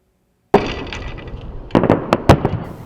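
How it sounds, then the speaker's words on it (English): Fireworks at the Glittering Lights Christmas drive-thru event at Las Vegas Motor Speedway: a loud burst after silence, then a cluster of sharp crackling pops and bangs, heard outdoors at moderate distance. "Fireworks rang in the Christmas season for the Glittering Lights drive-thru event at the Las Vegas Motor Speedway."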